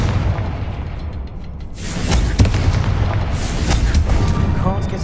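Booming magical blasts from the Confringo fire spell in the Hogwarts Legacy video game, dense rumbling explosions with crackling bursts, loud and continuous throughout.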